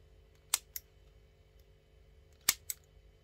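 Worn scissors snip off excess cord in two quick pairs of crisp, close cuts, each a sharp click followed by a second, with quiet pauses between.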